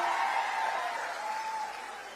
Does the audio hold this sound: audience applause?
yes